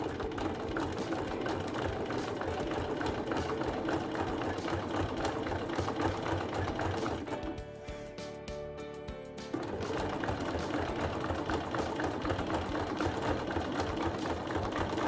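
A sewing machine stitches stiff nylon for a bowling-style bag, running steadily with a fast mechanical rattle, pausing briefly midway before starting up again, close and fairly loud.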